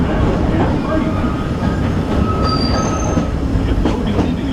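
The Disneyland Railroad train rolls along its rails near Orleans Square with loud, steady rumble, wheel squeal and clatter, heard from aboard with a voice faintly under the noise.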